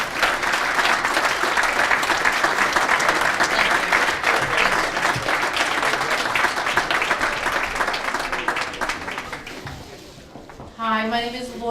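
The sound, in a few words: applause at induction dinner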